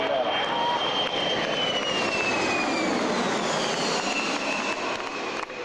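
A United Airlines Boeing 767-300 jet makes a flypast at an airshow, its engine roar steady and loud with a whining tone that falls in pitch as it sweeps past the crowd.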